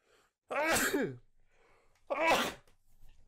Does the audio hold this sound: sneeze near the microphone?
yes